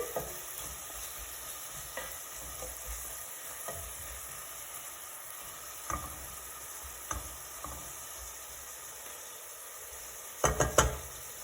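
Sliced carrots frying with onions in a tajine give a steady soft sizzle, broken by occasional utensil knocks and scrapes as they are stirred, with a brief cluster of louder clatters near the end.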